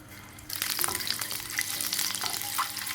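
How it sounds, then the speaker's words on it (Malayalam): Scored boiled eggs drop into hot oil in a pan and start frying with a sudden, bright, crackling sizzle that keeps going, close and steady. "എന്നിട്ടിത് ഓയിലിലേക്ക് ഇട്ട് കൊടുക്കുക"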